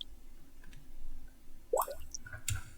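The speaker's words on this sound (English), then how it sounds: "We have some bubbles playing here" Bubble sounds with a delay effect in an electronic music production, a few soft bubbly pops and blips echoing briefly over a low background, fairly faint and without voices.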